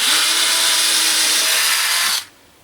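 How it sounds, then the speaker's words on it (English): A power drill pre-drilling a hole for a lag screw while installing a post protector whines loudly and steadily for about two seconds, then stops abruptly, leaving near silence. "He's gonna pre-drill that."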